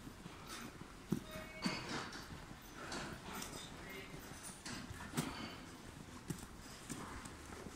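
Hooves of arriving cows thud and shuffle faintly at a distance on a farm, with a few sharper knocks as a person speaks over the scene.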